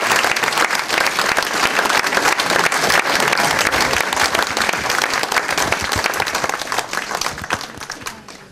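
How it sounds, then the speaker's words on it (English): An audience bursts into a full, dense round of applause for a speaker at an academy lecture, loud and sustained for several seconds before starting to thin toward the end. "I think we should give our speaker a great round of applause."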